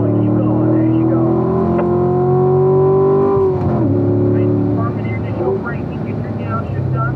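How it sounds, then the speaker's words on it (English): A car engine pulls hard and close as its pitch climbs steadily under rising throttle, dips briefly, then builds again, with a coaching voice talking over it throughout. "Ease out of it to about half throttle, and start rolling back into it all the way to full throttle."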